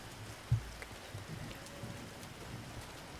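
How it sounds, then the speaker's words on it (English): Steady pouring rain in the Silent Hill 2 Remake game, a dense continuous hiss with a faint low thump near the start and no voices. "it's pouring rain up here."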